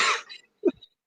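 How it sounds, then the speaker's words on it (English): A person with a lingering week-long cough gives a short harsh cough followed by a brief throat-clearing grunt, close and alone. "been coughing for like a week and a half and it doesn't disappear"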